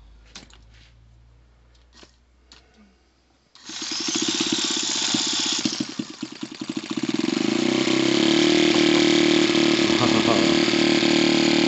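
A gauge 1 Y92 model locomotive's petrol engine is started: a few scattered clicks and knocks, then the starter catches and a small engine bursts into a steady, loud running drone that dips briefly before settling at a constant buzzing idle.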